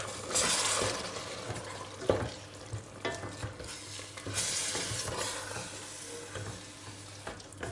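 A spoon stirs roasted tomatoes with a little tomato paste in a soup pot, giving irregular scraping and soft sloshing strokes over a low hum, fairly quiet with no talking.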